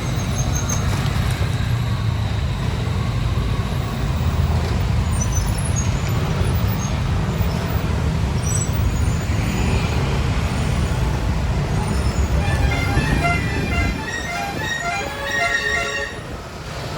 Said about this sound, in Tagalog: solid po ang traffic dito sa sidewalk na sa sidewalk na yung mga motor oh